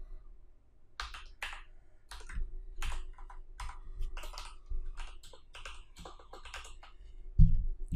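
Quick bursts of keystrokes on a computer keyboard come in irregular clusters of clicks and taps, close and fairly quiet, with brief pauses between runs and no talking.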